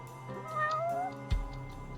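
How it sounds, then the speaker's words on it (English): A cat in the video game Judgment meows once in a drawn-out, wavering call, moderately close, followed by a short thump, with no talking. "I hear a cat."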